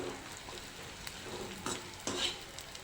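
Edible gum roasts in hot ghee in a pan, making a soft, continuous sizzle while a spoon stirs it, with several quiet scraping strokes against the pan.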